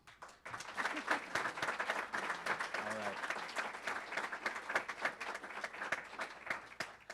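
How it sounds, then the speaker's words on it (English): Sustained audience applause at an association installation and awards ceremony, a dense crowd of clapping lasting several seconds while a voice speaks briefly over it. "one more round of applause."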